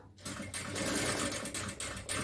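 Sewing machine running a steady stitch on fabric for a nighty, a continuous close whirring with brief pulses as the needle runs, alone without talk.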